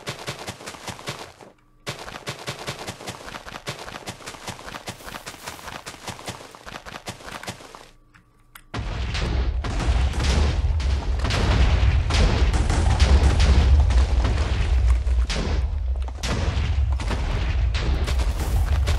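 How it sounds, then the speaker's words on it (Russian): Explosions blow up an office building in the Minecraft video game, with a stretch of crackling game noise giving way to a loud, continuous roar of blasts and rumbling debris that lasts about ten seconds. "Но вот офис точно надо взрывать."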